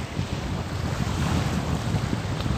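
Arabian Sea surf and wind roll in at the Devbag shore in Malvan, a steady, loud roar with heavy wind buffeting the microphone and no clear breaks.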